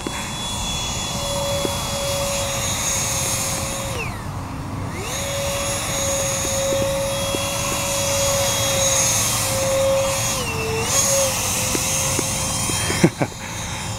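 Small RC EDF jet plane with thrust vectoring in flight, its electric ducted fan giving a steady high whine that dips and rises in pitch as it maneuvers, continuous and fairly close throughout, with a brief click near the end.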